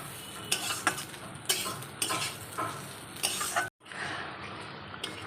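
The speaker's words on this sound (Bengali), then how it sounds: "চালটা হালকা করে ভেজে নিয়ে ভেজে রাখা পটলটাও দিয়ে দিয়েছি" Rice and pointed gourd (potol) frying together in a pan, a close, steady sizzle broken by rhythmic scraping stirs of a spatula, with a brief drop to silence near the end before the frying resumes.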